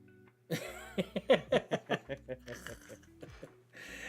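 A man on a podcast gives a rapid series of short, rhythmic hacking coughs, about a dozen in a row, fairly faint.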